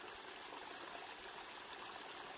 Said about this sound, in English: So this is another little water source on the canyon trail that we've been following.